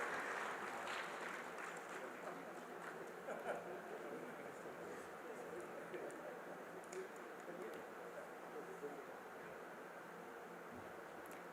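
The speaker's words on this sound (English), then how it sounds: "please join me in giving a big round of applause" An audience claps at the valedictory session of an urban development conference, a steady wash of distant applause running the whole time in a large hall, with brief louder swells and some faint talk underneath.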